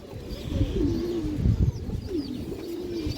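Pigeons from a Bengali breeding loft, the flying kind, coo in low repeated throaty calls close by, with soft rustling and faint background noise, and nobody talks over them.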